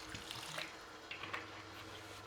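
Cold tap water runs steadily into a bowl while a bacon, ham and pea pasta salad is made, a continuous close splashing pour with no talking.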